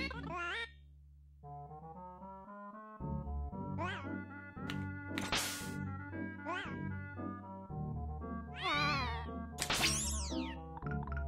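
Cartoonish cat meows from the Pac-Man 2: The New Adventures video game, several rising and falling yowls in quick succession over a low game music drone, no talk.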